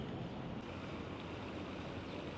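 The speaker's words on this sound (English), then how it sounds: "Big fountain." A large outdoor fountain on a city walk in Makati, Metro Manila, splashes water in a steady, broad wash that holds at a constant level for the whole stretch, with no voices over it.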